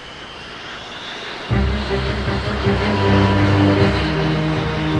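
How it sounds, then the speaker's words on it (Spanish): Coalition military aircraft prepare to attack during the Gulf War, and a loud engine roar swells in abruptly and holds as a sustained, heavy drone with tonal whine, with no one speaking. "170 aviones de la coalición se preparaban para atacar."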